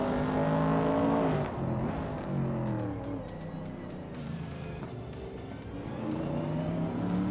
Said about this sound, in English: driving a 1969 AMC Javelin, currently in 12th place